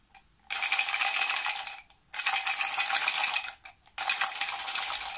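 Pens shaken in a container give three bursts of dense, bright metallic-plastic rattling, each lasting about one to one and a half seconds with short silent gaps between, close and fairly loud.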